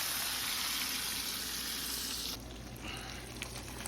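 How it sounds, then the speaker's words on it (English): Hot Italian sausage, cut out of its casing, sizzles with pancetta in a discada: a dense, steady frying hiss that continues loudly throughout, easing slightly about two-thirds of the way through. "This is the sausage browning"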